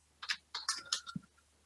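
Quick bursts of keystrokes on a computer keyboard, a few short clusters of clicks followed by a single firmer tap, faint and close with no talking.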